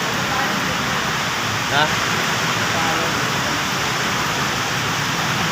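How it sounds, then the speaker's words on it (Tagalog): Heavy rain pours steadily in a dense hiss on a street toward Cubao, with a short spoken word cutting in briefly. "Grabe ulan, oh."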